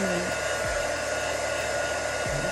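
A vacuum pump degasses resin for a miniature fairy figurine, a steady close-up whine and hum running throughout with no pauses or talking.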